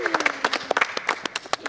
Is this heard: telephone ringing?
no